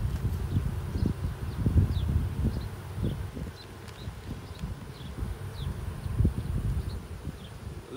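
Honeybees buzz around an open hive during an inspection, a close, steady drone with individual bees zipping past, while soft handling knocks and rustles of frames come through underneath.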